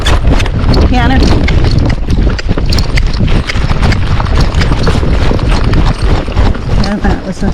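A Tennessee Walking Horse cantering in training, its rapid, rhythmic hoofbeats loud and close amid wind noise, with a rider's voice talking over the gait.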